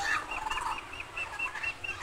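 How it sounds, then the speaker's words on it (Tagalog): Turkeys gobbling and chattering in quick, repeated bursts, fairly close and steady throughout, with other fowl clucking faintly in the background. "So mayroong pabo dito guys, oh."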